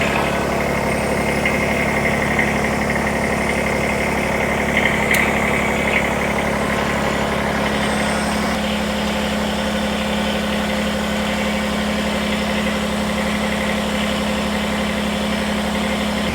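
A Kubota BX23S compact tractor engine idles while warming up, a steady close mid-pitched diesel drone with constant vibration and no pauses throughout.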